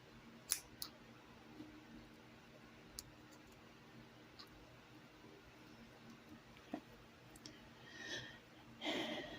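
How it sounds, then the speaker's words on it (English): Scissors snip through macrame cord on a gemstone bracelet in a few faint, scattered clicks and cuts, with a louder crisp rustle near the end. "Now I'm going to cut this off."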